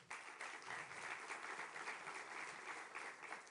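Audience applause fills a conference hall hosting talks on a two-state solution, steady dense clapping throughout, somewhat distant and soft, with no speech over it.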